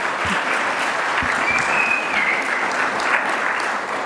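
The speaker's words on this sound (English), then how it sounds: "Let's give Christina and everyone who submitted those fun and festive photos a round of applause" Applause from a congregation at a live auction event after a festive photo slideshow, a steady, full roomful of clapping held at an even level throughout, with a faint tone gliding briefly through the middle.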